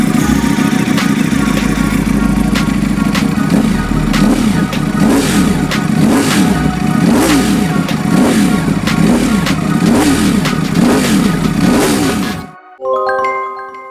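A 2023 Ducati Panigale V4R's V4 engine revs hard and steadily for about twelve seconds, with rhythmic rises and falls in pitch, then cuts off abruptly, leaving brief quieter tones.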